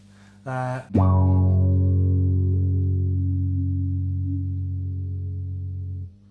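Electric guitar played through a Strymon Mobius modulation pedal: one short strummed burst, then a single sustained chord ringing for about five seconds with wavering modulation, slowly decaying before cutting off, no talking.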